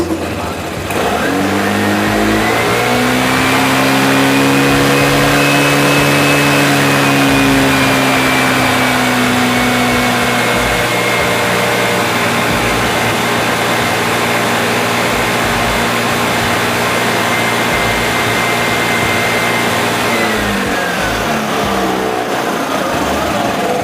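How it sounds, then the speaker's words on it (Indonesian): A Vespa Primavera 150 scooter engine held at raised throttle, a loud steady near drone that climbs slightly in pitch then settles and drops back toward idle near the end. "Kita cek pas lagi dia keadaannya digas."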